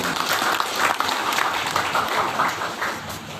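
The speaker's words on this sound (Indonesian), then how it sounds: "Tepuk tangan untuk kenaikan ini." Applause from an audience at the inauguration ceremony of a state Hindu religious institute in NTB, Indonesia: sustained, dense clapping at moderate volume throughout, with no speech over it.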